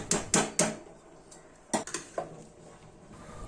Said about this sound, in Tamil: இதை வந்து கண்ணா பின்னான்னு கிண்டக்கூடாது, லைட்டாக இது போல் கிண்டிக்கலாம்